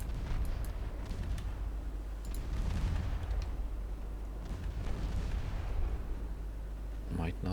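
Cruiser guns boom in salvos in the naval game Ultimate Admiral Dreadnoughts, with repeated heavy blasts and rumbling over a constant low background.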